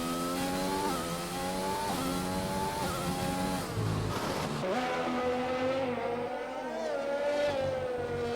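A Formula 1 car in an Xbox racing game at the Russian Grand Prix screams through upshifts at high revs, then drops sharply under braking before the engine climbs again, loud and continuous with no talking.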